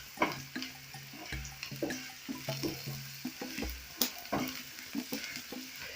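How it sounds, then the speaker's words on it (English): Fish curry frying in a pot as it is stirred, giving repeated scraping strokes and soft splashes over a steady close sizzle, with a few sharper clinks, no voices. "Then I'm going to stir this."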